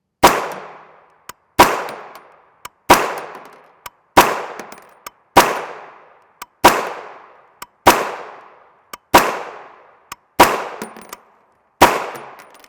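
Ten single shots of 147-grain 9mm FMJ from a blowback pistol-caliber carbine that runs on Glock magazines and has a top AR-style charging handle, evenly spaced about 1.3 seconds apart, each a sharp loud crack with a short decaying tail.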